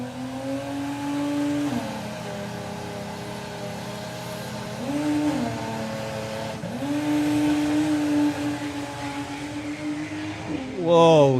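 Volkswagen drag racing cars run down the strip at a national finals event. Engines drone loudly and steadily, their pitch rising and shifting as they accelerate, under excited commentary.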